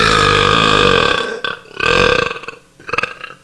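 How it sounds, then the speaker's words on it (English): A very loud, prolonged record-setting belch from the world's loudest burper, rumbling for over a second, then breaking into a second long burp and a shorter third one, close and alone with no talk. "Ever wondered what the loudest burp in the world would sound like?"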